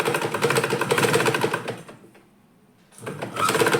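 A sewing machine stitching a salwar top, rapid mechanical needle chatter running steadily, stopping for about a second, then starting up again close to the microphone.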